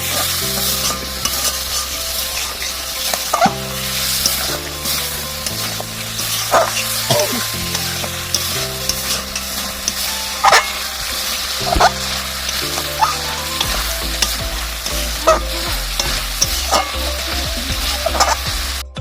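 Turtle meat curry with garam masala sizzles loudly in a pan after a little water is added, while a spoon scrapes and stirs in repeated strokes over a constant frying hiss, with brief background noise.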